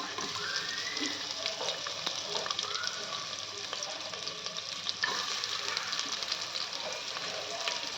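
Sliced onion frying in a pan for veg masala rice, a soft continuous sizzle with faint scraping stirs and small clinks, fairly quiet and close, with no talk over it.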